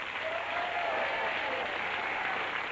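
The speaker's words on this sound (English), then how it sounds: "A big round of applause again." A studio audience at the 1992 Blockbusters quiz show applauds steadily, a dense, even wash of clapping that holds at a constant level throughout.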